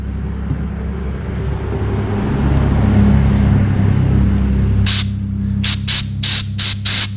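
Compressed air is blown through a clogged brake line on a 1971 Mercedes-Benz 280SE, heard as a loud, steady rushing hiss over a low hum, followed by several short, sharp bursts of air near the end.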